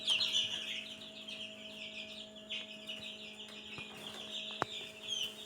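Thirteen-day-old chicks peep and chirp constantly and close by, over a low steady hum, with one sharp knock near the end.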